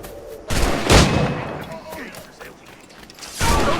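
A few loud gunshots crack out in Assassin's Creed 4: Black Flag, spaced unevenly, with a close first pair and another later, over a bed of busy in-game ambience.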